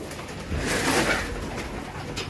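Pigeons of mixed local breeds gathered at a loft, cooing softly in a low murmur that swells briefly near the middle and then settles back, with no talk over it.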